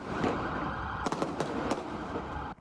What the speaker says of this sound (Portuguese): São ouvidos disparos.